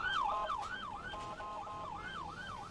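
An ambulance siren from the Emergency 4 firefighting and rescue game sweeps up and down in a steady wailing cycle, loud and close throughout, with no talking over it.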